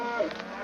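A single low, drawn-out cow moo, fairly close and steady, lasting the whole short moment with no talking.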